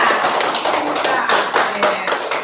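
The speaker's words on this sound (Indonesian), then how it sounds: "kita coba berikan dulu tepuk tangan buat yang bisa" A classroom of students claps together for a classmate who answered correctly during an Indonesian lesson, a fairly loud, steady patter of many hands lasting a couple of seconds with a few brief voices mixed in.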